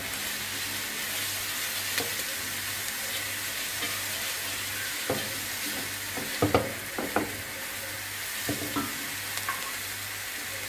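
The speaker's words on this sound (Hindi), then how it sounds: "इसको एक मिनट के लिए हम थोड़ा सौते करेंगे।" Egg fried rice ingredients sauté in a pan with a steady sizzle, broken by a few scattered clicks and scrapes of stirring near the middle. Nobody talks.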